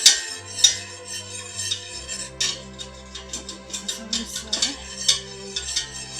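A utensil scrapes and clinks against a pot while hot cocoa is stirred as it heats toward a boil, giving a run of close, repeated metallic taps and scrapes in an irregular rhythm with a low hum underneath.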